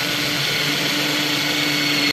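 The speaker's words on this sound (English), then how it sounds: "I am now ready to start drilling." A power drill boring into wood whines steadily and continuously at close range, a dense buzzing motor drone with no pauses and no voices.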